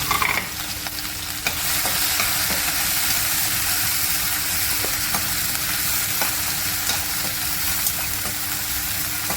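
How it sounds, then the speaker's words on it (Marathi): Green chili thecha sautéing in oil with asafoetida, alongside coarsely ground peanuts and salt, for a flat bean (ghevda) vegetable dish: a steady close sizzle and frying hiss throughout, with occasional stirring clicks and no talking. "अगोदर मिरचीचा ठेचा घालते त्याला चांगलं परतून घ्यायचं आहे"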